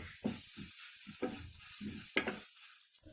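Browned onions with ginger garlic paste fry in a pan while being stirred, producing a faint hiss broken by a series of short scraping strokes at an uneven rhythm.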